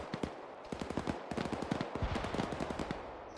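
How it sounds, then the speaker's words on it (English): Rapid automatic gunfire in the military video game Arma 3, dense bursts of loud shots rattling off in quick succession with no break, no voices over it. "I think we're taking some fire from the north."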